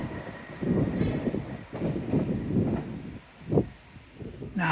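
A train pulls away from a rainy railway station with low rumbling surges of engine and wheel noise, rising and falling in waves, one sharper swell near the end, fairly close and moderately loud.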